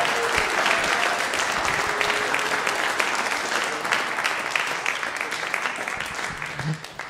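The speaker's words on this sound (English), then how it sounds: "let's give them another round of applause" An audience applauds a stage band after an evening concert, thick steady clapping with a few shouts mixed in, gradually thinning toward the end.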